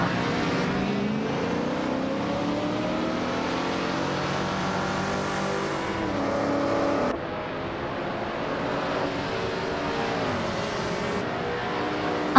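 Race cars in a racing video game, including a 1964 Alfa Romeo Giulia, with engines droning steadily and rising and falling in pitch through gear changes, a continuous loud close roar with no talk.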